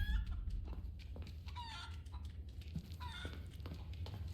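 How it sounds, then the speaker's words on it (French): A chicken in the video game Resident Evil 4 gives a few short, close clucks and squawks over a low ambient game background, with no talking. "Une poule."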